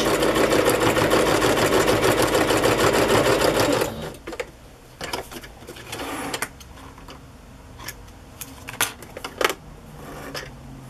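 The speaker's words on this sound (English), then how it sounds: "Guess I'll stitch that part down." A sewing machine stitching journal pages runs loudly and steadily for about four seconds, then stops, leaving scattered clicks and handling noises of paper and fabric.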